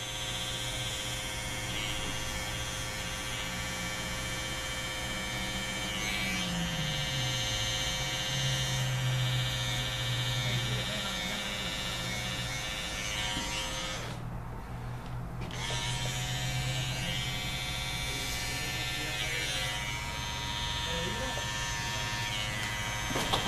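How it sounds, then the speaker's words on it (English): Electric hair clippers trimming a woman's short haircut during a line-up, a steady close buzz droning throughout with slight shifts in tone as the blade moves, briefly dipping midway. "every time I put the razor on any the machine to cut, I always apply a base"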